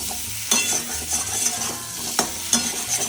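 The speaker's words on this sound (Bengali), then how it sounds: "এবার নেড়ে নেড়ে এটাকে একটু ভাজবো।" Small new potatoes with turmeric and salt frying for dum aloo, a soft sizzle broken by several sharp scraping stirs of a spatula against the pan, close and clear without talk.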